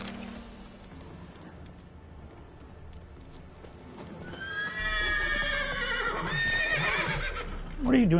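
Roach, the horse from The Witcher 3, gives a loud, wavering whinny in the second half, over hoof clatter and game ambience, ending with a short snort.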